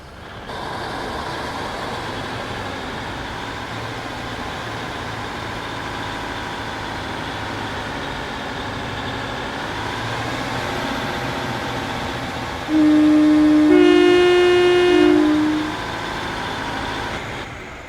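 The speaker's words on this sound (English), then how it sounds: "We leave our Class 153 Duo as it departs for Bridgend" A Class 153 diesel train on the South Wales Main Line departs a station, its engine droning steadily and close with a rising note midway, followed by a brief louder tonal burst like a horn or warning tone.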